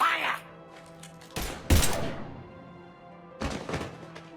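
Gunfire in the video game Mass Effect 3 comes as a few loud, sharp bursts of shots separated by quieter gaps, with a brief voice near the start.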